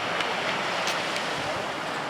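Sea waves wash onto the shore at a Baltic beach in Mielno, a steady broadband rush with wind noise over the microphone and no clear individual breaks.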